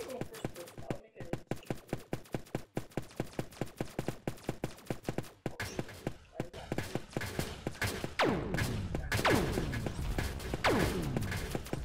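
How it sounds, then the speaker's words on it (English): Rapid, repeated gunshots from a Roblox shooter game on Xbox One crack in fast bursts throughout, steady sharp reports with some ringing tails toward the end, over game noise. "I'm getting shot at by this yellow guy!"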